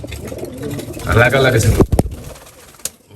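A male racing pigeon coos in a low, throaty burst close to the microphone, followed by a few sharp knocks, while someone talks over it.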